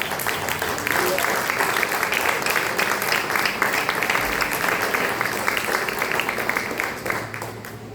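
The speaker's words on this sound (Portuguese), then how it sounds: "as palmas engrandecem o nome do Senhor" Church congregation applauding during a worship service, steady sustained clapping from many hands across the room with voices mixed in, fading slightly at the end.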